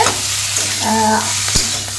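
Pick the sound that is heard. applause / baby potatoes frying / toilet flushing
baby potatoes frying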